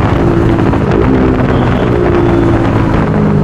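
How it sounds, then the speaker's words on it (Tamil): Bajaj NS200 BS6 motorcycle fitted with an Akrapovic R1M aftermarket exhaust, engine droning loud and steady throughout with a low rumbling tone and wind buffeting, no talking. "திறக்கிற ராடில் ஓப்பன் பண்ணாலே பயங்கரமான சவுண்டு"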